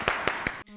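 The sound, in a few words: studio audience clapping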